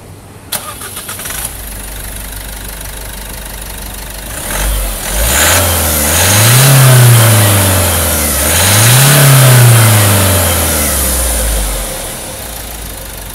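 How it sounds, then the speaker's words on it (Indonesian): An Isuzu D-Max 1.9-litre turbo diesel cranks and fires up, settles into a close idle, then revs twice in long rising and falling swells before dropping back, heard loud and alone. "Sekarang kita pengen coba denger mesin barunya seperti apa."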